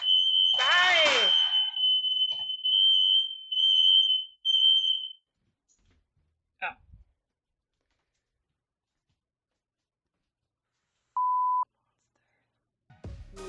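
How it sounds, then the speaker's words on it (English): A smoke alarm sounds in a home kitchen while burgers are cooked, a loud steady high electronic tone over the first few seconds with excited talk mixed in, then quiet, with one short beep later. "The smoke alarm did go off."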